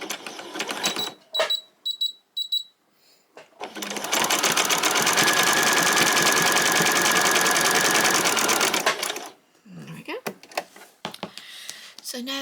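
A sewing machine runs a zigzag seam across fabric for doll shorts, with a few brief clicks before a steady, close mechanical whirring of several seconds and then more short handling taps.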